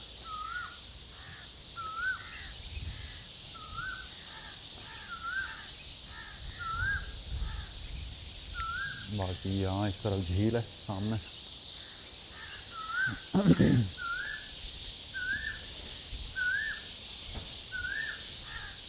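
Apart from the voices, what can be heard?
birds chirping in trees at lake in morning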